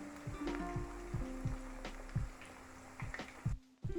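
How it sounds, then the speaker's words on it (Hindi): Chicken pakora fries steadily in hot oil, a continuous close sizzle with occasional pops and a brief pause near the end, no one talking. "अभी इसको मैं 2 से 4 मिनट के लिए फ्राई करूँगी"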